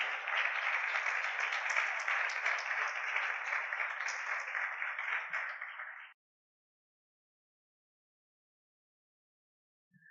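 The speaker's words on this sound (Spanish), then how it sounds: "Denle un aplauso al Señor." Church congregation applauding together, a steady dense wash of clapping for about six seconds that stops abruptly, followed by silence.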